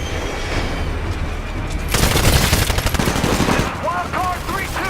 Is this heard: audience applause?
no